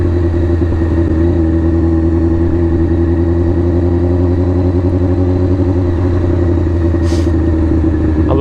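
Cammed motorcycle engine lugging at low RPM in the wrong gear, a loud, steady, lumpy rumble with an uneven loping pulse that holds throughout, close and continuous, with a brief faint hiss near the end.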